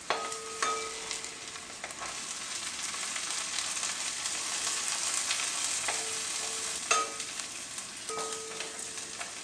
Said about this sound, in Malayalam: നമുക്ക് വെളുത്തുള്ളി ഇതിലേക്ക് ചേർത്ത് നന്നായിട്ട് ഇളക്കി കൊടുക്കാം